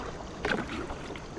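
A canoe paddled through shallow water between rock ledges, one close paddle stroke splashing and swishing briefly over a soft background of moving water and light wind, with no talking.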